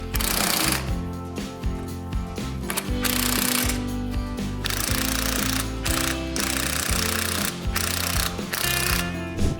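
Bolts on the fender bracket of a Tratorito BTTG 15.0 walk-behind tiller being tightened, giving loud, continuous mechanical ratcheting and rattling with brief pauses, close by and with no talk.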